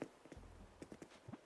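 A horse's hooves clip-clopping in Animal Crossing: New Horizons, a few faint, light knocks in an uneven rhythm set against a quiet low background.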